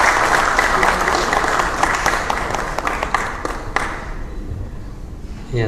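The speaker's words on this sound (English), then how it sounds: "So please, I need the clap for him." An audience claps for a director at a networking roadshow, with a steady burst of applause lasting about four seconds before fading out.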